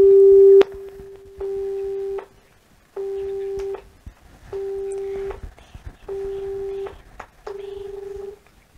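Repeated telephone busy tone after a call to a municipal engineer is cut off: six steady beeping pulses with short gaps, fairly clear and close, with faint background noise between them.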